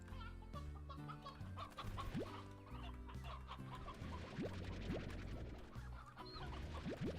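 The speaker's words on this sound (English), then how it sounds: "now we gotta go ahead and abduct some chickens real quick" Chickens clucking in the farming game Slime Rancher, a continuous quiet series of soft clucks and short calls over looping background music, with occasional rising game sound effects.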